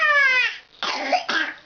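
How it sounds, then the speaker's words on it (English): After loud roaring, a toddler coughs close by in a few harsh, rough bursts that follow a short strained vocal sound. "All that loud roaring makes you cough."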